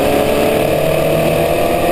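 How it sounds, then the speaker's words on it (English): A loud, steady mechanical drone and rattling vibration from the back end of a Formula Vee race car at speed, with a loose fan shroud, continuous and close throughout. "There was a huge vibration in the back end of the car."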